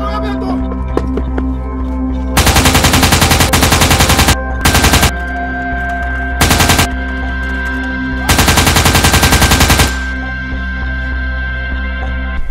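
Loud automatic gunfire from an action movie comes in four rapid bursts, two long and two short, over a low steady hum with quieter pauses between them.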